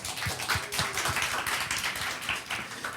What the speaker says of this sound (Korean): 정말 이렇게 다시 한번 하나님께 영광의 박수를 돌려드리겠습니다.